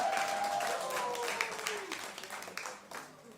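An audience at a health event claps, a steady wash of applause that fades and thins out toward the end, with a voice faintly audible beneath it.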